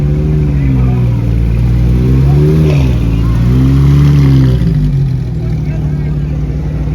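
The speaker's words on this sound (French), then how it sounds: "Un beau 63 avec une GT3 RS magnifique, violette avec les jantes, avec un sacré échappement." A purple Porsche GT3 RS rumbles and revs nearby on a street during Monterey Car Week, its engine rising and falling in pitch over several seconds, with a person talking over it.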